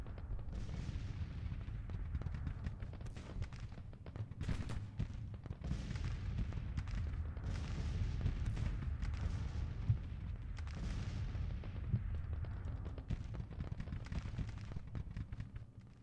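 Dense, continuous booming and rumbling gunfire from 12-pound field guns and musketry in the Civil War strategy game Grand Tactician, a steady, heavy barrage with overlapping blasts throughout.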